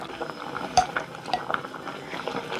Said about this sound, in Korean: 그리고 이제 소고기를